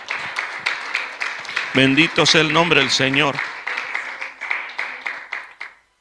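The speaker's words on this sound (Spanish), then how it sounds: "El aplauso es para el Señor" A church congregation claps together in quick rhythmic applause that carries on under a preacher's loud voice, then fades out at the end.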